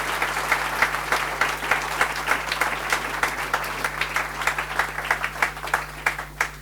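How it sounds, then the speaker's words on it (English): An audience at an Investec Captains of Industry panel in Cape Town applauds in sustained, even clapping that fills the room from start to finish, without voices over it. "A round of applause, ladies and gentlemen"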